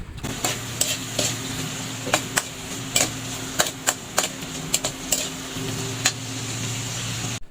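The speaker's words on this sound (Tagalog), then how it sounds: "Kapag brown na yung ating bawang, ilalagay naman natin itong kamatis. Tapos halu lang natin hanggang sa maluto ito." Tomatoes stirred into browned garlic in a frying pan for a dried anchovy dish give a steady sizzle, broken by a series of sharp, irregular scrapes and taps of the utensil against the pan.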